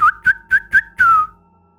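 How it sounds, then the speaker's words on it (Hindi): A person whistles a short tune, four quick, clear notes followed by a longer held note that slides slightly downward, close and alone with no talk. "मैंने फिर से सीटी बजाई, सिर्फ टेस्ट करने के लिए। एक जटिल धुन।"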